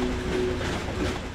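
A train moving along a track in the video game Ratchet and Clank, a steady close rumble with faint tonal hum, continuous for the whole short stretch without talk.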